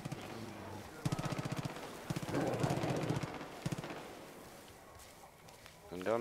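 Bursts of gunfire in Far Cry 5 crackle in short rapid volleys, fairly faint and mid-distance, separated by gaps, with scattered rustling and ambient noise and a brief vocal sound at the end.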